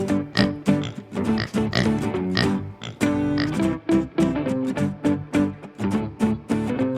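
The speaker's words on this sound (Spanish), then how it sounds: "¿Cuál es el sonido que hace el cerdo?" A pig oinks over and over in short, choppy grunts and snorts. Each one comes in a quick rhythmic burst, close and fairly loud, with no one talking over it.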